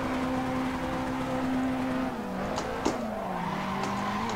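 A car in the Assetto Corsa racing game brakes hard on a mountain touge course, its tires skidding in a steady squeal that drops in pitch as it slows, with the engine droning underneath.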